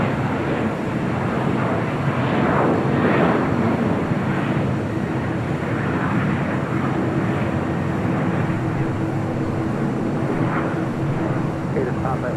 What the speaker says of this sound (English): A350-1000 coming in from Doha